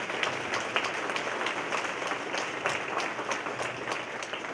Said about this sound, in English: Please stand and give him a round of applause